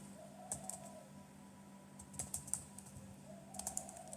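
Someone types on a computer keyboard, with quiet, close keystrokes falling in three short bursts separated by brief pauses, over a faint background hum.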